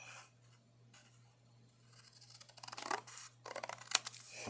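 Scissors snip through paper to shape a scalloped bottom edge for an apron-style sticky note holder craft, quiet close-up crisp cuts and rustling that grow busier toward the end.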